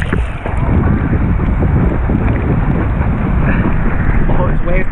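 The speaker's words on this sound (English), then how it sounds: "Oh, it's waves behind me." Loud, steady ocean waves rushing on a beach, a dense broadband roar mixed with heavy wind buffeting the microphone throughout.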